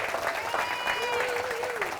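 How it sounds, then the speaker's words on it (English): A group applauds at an options trading seminar, with continuous clapping mixed with voices, crowd noise and a bright tonal whistle or squeal over it. "Give yourselves a round of applause"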